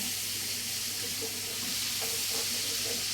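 Food roasting in a pan, a steady close sizzle and crackle with faint stirring scrapes, continuous throughout.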